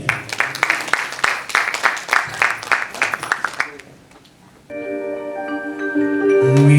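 An audience at a live music concert claps in a strong, rhythmic burst for several seconds before the clapping fades, followed by sustained instrumental music starting up.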